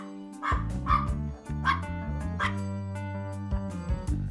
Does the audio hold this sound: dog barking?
yes